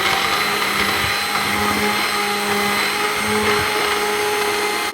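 A blender running continuously, blending 2% milk with avocado, a loud, close, steady motor whir that holds even throughout.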